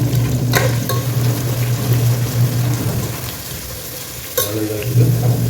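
Onions fry in a pan for mutton dum biryani, giving a loud, steady, dense hiss of sizzling oil with a low hum underneath and a few brief clatters.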